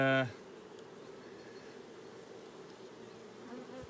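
A honeybee colony hums inside a hive, a steady, fairly quiet drone that continues throughout after a brief, louder tonal burst at the start.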